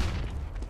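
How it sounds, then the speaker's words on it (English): A flashbang grenade goes off during a competitive Counter-Strike: Global Offensive match on de_Dust 2, a dense low boom that holds steady and loud across the whole short moment with no voices over it. "Flashbang! Flashbang!"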